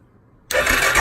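A Vinson ATV engine fires up abruptly after a quiet moment and roars loudly and close at a steady pitch, with no talk.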